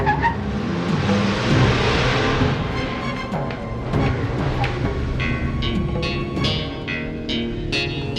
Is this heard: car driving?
yes